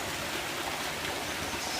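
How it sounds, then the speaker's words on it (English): Waterfall near Rishikesh in dry season, a steady close broadband rush of falling water with no breaks, fairly soft and unbroken for the whole short stretch. "I found the waterfall, you guys."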